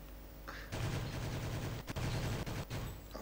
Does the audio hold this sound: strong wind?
no